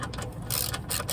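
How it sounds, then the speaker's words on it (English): Ratchet wrench working an oil drain plug during a home oil change on a van, a short burst of quick clicking pawl sounds, close and alone. "We're gonna grab our ratchet."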